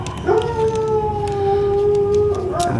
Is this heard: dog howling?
yes